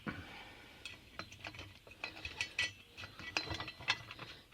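A coach bolt is screwed down into an armrest, giving a faint, close series of irregular ratcheting clicks and small metallic ticks.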